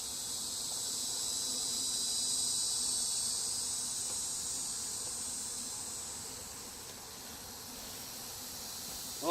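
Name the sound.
honeybees buzzing around an opened hive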